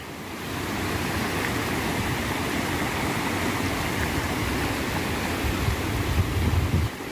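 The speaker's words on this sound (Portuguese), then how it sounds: "Olha que correnteza maravilhosa." River current at Santa Luzia waterfall in Viçosa, Alagoas, a steady broadband rush of flowing water heard close, continuous and unvarying, with faint buffeting toward the end.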